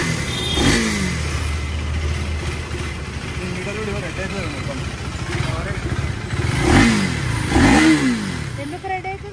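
A motorcycle engine on a test drive rumbles and revs in several rising surges, closest and loudest near the end, with people talking over much of it.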